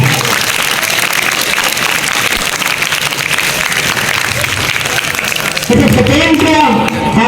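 Steady, loud applause from an audience at a quiz competition rolls on for several seconds, then a voice cuts in near the end.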